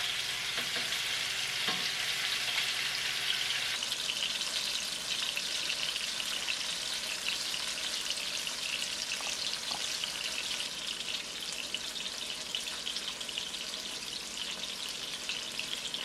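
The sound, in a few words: curry salmon frying in a pan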